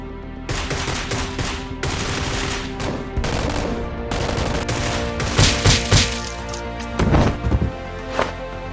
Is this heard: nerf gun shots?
yes